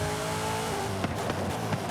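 A race car drives the Winter Wonderland street circuit in Forza Horizon 5. A sustained, loud engine drone shifts pitch, and brief tire squeals and thumps come from the slippery track.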